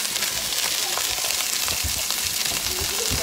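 Hamburger steak patties fry in a hot pan with a loud, steady sizzle throughout, close and continuous, with faint low knocks beneath.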